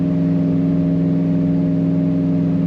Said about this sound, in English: Nice smooth running, nice thump to that exhaust.